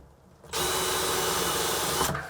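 A power drill driving into a cabinet to fit inset door hinges whirs steadily at high speed for about a second and a half, then stops abruptly; close and fairly loud, with no talking.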